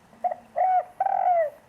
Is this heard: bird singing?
yes